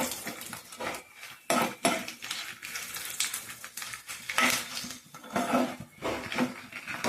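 Dried red chillies fry in a pan while being stirred for mint chutney, irregular scraping and clattering of a utensil against the pan, close and moderately loud, with no talking over it.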